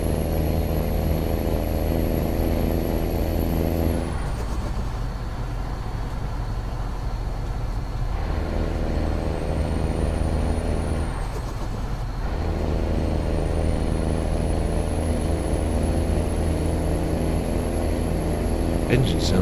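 A heavy truck engine with a low, loping idle mod in American Truck Simulator rumbles steadily with strong low harmonics, alongside a high whine and a brief air-brake-like hiss, with a voice talking over it.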